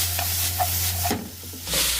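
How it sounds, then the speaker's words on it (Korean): Bamboo shoot japchae vegetables stir-fried in a pan with a splash of kelp water, giving a close, steady sizzle with scraping stir strokes over a continuous low hum, no talking. "다시마 물 한 큰술 넣고 볶아보겠습니다"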